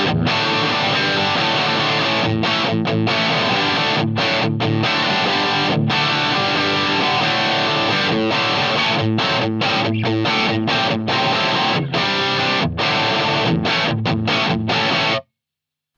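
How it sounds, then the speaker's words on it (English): Distorted electric guitar through the red channel OD1 of a Marshall DSL, a loud continuous rhythmic riff with choppy palm-muted stops, playing steadily until it cuts off abruptly. "This is what OD1 sounds like."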